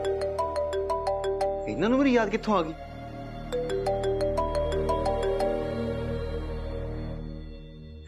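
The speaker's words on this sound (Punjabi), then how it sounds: "ਮੰਮੀ ਜੀ ਦਾ ਫੋਨ" A mobile phone plays a repeating melodic ringtone of bright, clear tones that goes on for several seconds, while a person speaks briefly over it partway through.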